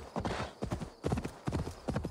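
Horse hooves clip-clopping in a quick trotting rhythm in the video game Assassin's Creed Valhalla, moderately close, with a faint background hum.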